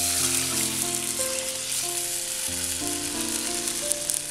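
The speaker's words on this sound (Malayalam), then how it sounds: "ഇതിലേക്ക് നമ്മൾ ചിക്കനും കൂടെ ആഡ് ചെയ്യാം. ചിക്കനും ഇതിൻ്റെ അകത്ത് കേട്ടോ ഒന്ന് ടോസ് ചെയ്തെടുക്കാം." Chicken pieces tossed in a hot pan for soup sizzle steadily and closely throughout, with faint tonal kitchen hum beneath and no talking.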